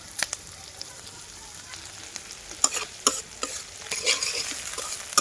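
Onions sizzle and fry in a pan for a village-style fish curry, a steady crackling hiss broken by scraping stirs and small pops, close and moderately loud.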